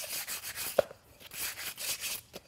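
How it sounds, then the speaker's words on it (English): Quick, light sandpaper strokes rubbing over a painted pot, repeated in a loose rhythm up close, with no voices. "Let me just give it a quick light sanding"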